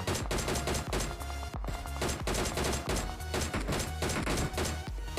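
DP-28 gunfire in the PUBG Mobile video game during a firefight: loud, dense bursts of rapid shots with sharp cracks and impacts layered over each other throughout, no talk.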